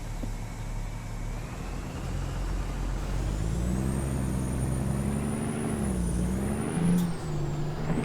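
An American Truck Simulator game truck rumbles with a low engine drone that rises and shifts pitch as it starts up, with a faint hiss near the end, steady and close with no talking.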